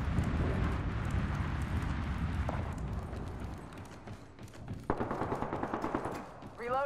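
Automatic weapon fire in Apex Legends, with rapid bursts and repeated shots during a firefight. Other game effects sound alongside it, and a voice is briefly heard.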